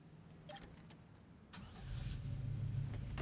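A truck engine in Saints Row starts up after hotwiring: a few clicks and a cranking sputter, then the motor catches and settles into a steady, rumbling idle, fairly quiet and with no speech.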